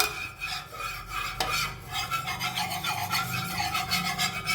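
Steel spatula scraping and stirring a little oil around a flat iron tawa, a steady close rasping swirl that keeps going without pause, with no voice over it.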